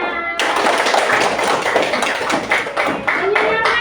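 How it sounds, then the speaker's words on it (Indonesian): A fifth-grade class of children in an Indonesian primary school claps hands together in a loud, busy burst of rhythmic applause that starts abruptly after a brief quiet moment and continues, with some voices mixed in. "tepuk tangan untuk semuanya"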